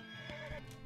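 A horse in the video game West of Loathing gives a short, bright whinny with a clip-clop of hooves, heard close and alone in a brief burst.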